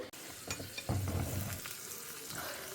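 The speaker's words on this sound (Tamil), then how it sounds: "நெய்யில் முந்திரி பருப்பு திராட்சை வறுத்து கொட்ட வேண்டியதான் வேலை" Cashews and raisins fry in hot ghee with a soft crackling sizzle and a few light stirring clinks, quiet and close, with no talking.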